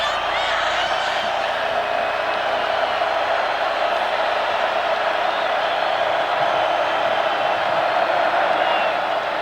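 A stadium crowd roars at the 2022 Texas Longhorns vs. Oklahoma State Cowboys college football game, a dense, steady wash of noise under a commentator's voice.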